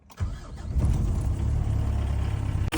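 A Mitsubishi 4D56 diesel engine cranks briefly and catches, then settles into a steady, loud low-pitched running clatter close by, with no talking over it.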